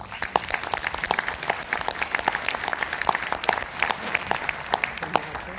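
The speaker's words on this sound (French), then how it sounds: "je voudrais que les applaudissements lui aillent également" An audience at a public event claps steadily for several seconds, a dense, lively patter of many hands at even strength with a murmur of crowd noise underneath.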